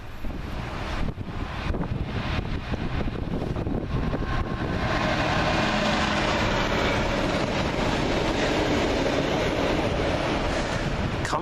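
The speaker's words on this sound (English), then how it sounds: "And here comes the next train." A train rumbles past close by, a loud continuous roar of wheels and carriages with heavy wind buffeting the microphone throughout.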